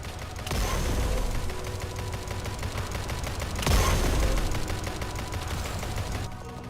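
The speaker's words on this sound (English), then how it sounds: "Finally, this is what the railgun tank looks like. And this is how it looks attacking." A railgun tank skin attacks in the Roblox game Tower Defense, giving a continuous loud barrage of rapid gunfire-like blasts with a heavier burst midway, no voices.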